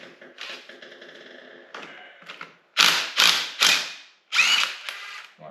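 Ratchet wrench undoing bolts on a GT40 gearbox during a strip-down, giving quick rattling clicks at first, then four loud, separate bursts of fast ratcheting close by, each followed by a brief pause.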